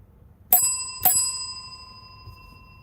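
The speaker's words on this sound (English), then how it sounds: "I got a bell now, y'all." A bicycle bell rings twice, about half a second apart. Each ring is bright and close, with a metallic tone that decays slowly into quiet.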